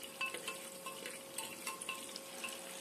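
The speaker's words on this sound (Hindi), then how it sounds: "तेल गरम हो चुका था तो मैं जीरा डाल रही हूँ" Cumin seeds sizzling and crackling in hot oil in a home kitchen pan, a soft steady fry with small pops scattered throughout, faint and close, with no voices.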